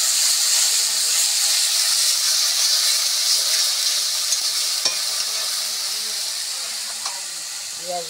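Onion paste frying in a pan while cooking rajma, after asafoetida has gone in, giving a steady loud sizzle and hiss with occasional spatula scrapes, fading slightly toward the end, with no one speaking.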